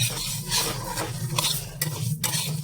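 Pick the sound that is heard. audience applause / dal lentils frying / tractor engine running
dal lentils frying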